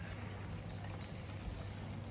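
Heavy rain pours down outdoors as a dense, continuous hiss that stays loud and even, with no other sounds standing out.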